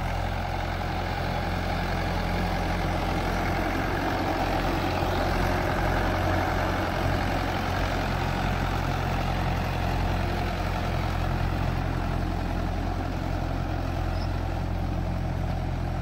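A Mahindra 475 tractor fitted with cage wheels runs steadily through a banana field, its heavy diesel engine droning in a constant, loud, close rumble with no change in pace.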